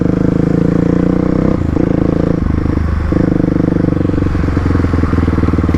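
Upgraded Kawasaki KLX351 dual sport motorcycle riding, its engine droning loud and steady with harmonic tones, shifting pitch midway as the rider changes speed, with no talk.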